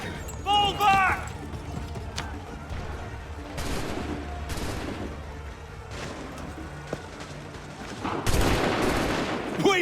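Volleys of musket gunfire crack out in an Assassin's Creed 3 cutscene, several broadband bursts spread across the scene alongside horse hooves and shouting voices.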